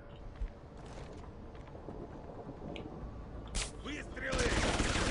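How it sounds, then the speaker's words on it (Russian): Gunfire in Deus Ex: Human Revolution: a few scattered shots and a louder burst near the end crack over a busy game soundscape with mechanical clanks, while someone talks faintly at times. "Выстрелы!"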